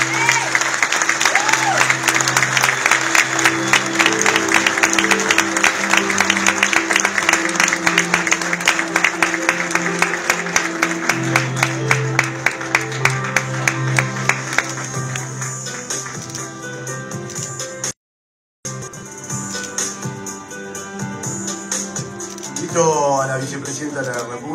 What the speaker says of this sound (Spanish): Les pedimos un fuerte aplauso para recibir en el escenario a Marcelo Tinelli